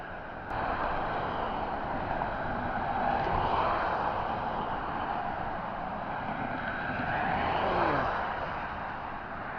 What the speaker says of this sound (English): When the cars go past, the whole thing trembles.